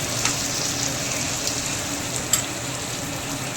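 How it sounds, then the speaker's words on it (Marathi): Bitter gourd sautés in a pan with a continuous, dense sizzle close by, with a couple of faint clicks from stirring. "10 मिनिटं असं परत करायचं, असं परतून घ्यायचं। सगळेच कारले शिजायला पाहिजे।"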